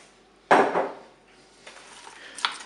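Carrots and leeks dropped and spread into a Cookeo cooking pot for a chicken-and-rice dish: one loud clattering tumble against the metal bowl, then a few lighter knocks and clinks, close by.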